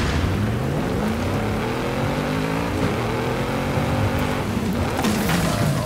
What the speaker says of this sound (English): You can hear the car and everything.